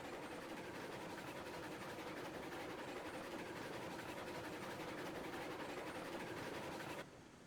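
A train rolling downhill in Railroads Online, out of fuel, gives a continuous rumbling clatter of wheels on track. The sound holds steady and fairly loud, then abruptly drops in level just before the end.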